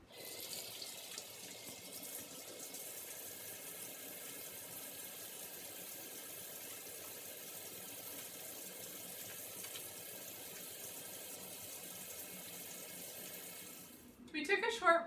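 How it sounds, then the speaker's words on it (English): Kitchen tap running while hands are washed after handling raw fish, a steady close rush of water that continues unbroken before stopping, followed by a brief clatter. "we're going to wash our hands again"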